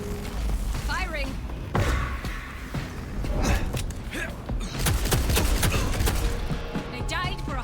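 Gunfire in the game Vampire: The Masquerade – Bloodlines 2 rattles in bursts and sharp cracks against a constant game soundscape, while voices speak over it.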